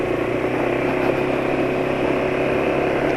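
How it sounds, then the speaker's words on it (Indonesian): An automatic scooter engine runs smoothly at a steady idle, a continuous even hum with no revving and no voices. "setiap kali mesin dinyalakan, suara mesin jadi halus gitu."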